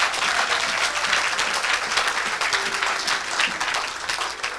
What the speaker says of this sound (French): Est-ce qu'on peut acclamer encore pour Jésus?